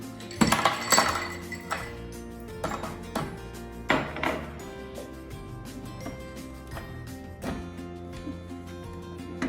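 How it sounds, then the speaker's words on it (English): A handful of dry rice is poured into a smoothie blender jar, making clattering, clinking hits against the container in several bursts over a steady musical background. "now let's put in a handful of rice"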